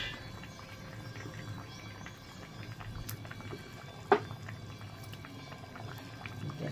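Katla fish curry with taro and bori simmering in a pot, a low steady bubbling murmur throughout with one sharp clink midway.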